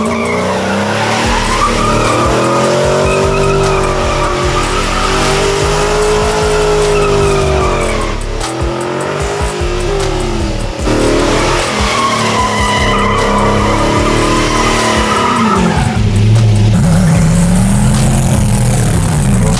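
A 420 hp 1969 Volvo Amazon racing a new Volkswagen Golf R Mk8, loud engines revving hard and rising and falling through gears with tires squealing and skidding, continuous and close.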